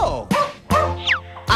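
A cartoon dog in the JumpStart Kindergarten computer game gives several short, bright yips and barks in quick succession, loud and close, with springy game sound effects between them.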